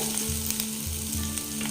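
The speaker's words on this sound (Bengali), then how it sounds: "দেখুন আদা রসুন পেঁয়াজটা ভাজা ভাজা হয়ে গেছে, প্রায় লাল লাল হয়ে গেছে।" Chopped ginger, garlic and onion fry in a pan, making a steady, close sizzle with faint stirring scrapes and no voices.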